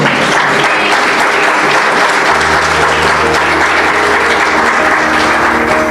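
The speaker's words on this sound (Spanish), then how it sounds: "dale un aplauso al Rey" Congregation applause at a church service, loud sustained clapping from a large crowd, continuous and full throughout with a low hum beneath.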